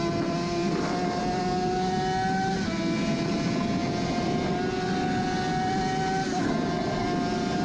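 Onboard a Suzuki RG500 classic racing motorcycle at the Isle of Man TT course, the two-stroke engine screams at high revs, its pitch stepping through gear changes, loud and continuous under wind rush.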